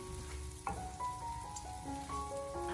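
Prawns are stir-fried with minced garlic in a wok over low heat, making a close, continuous sizzle and crackle for a few seconds, with soft tones underneath.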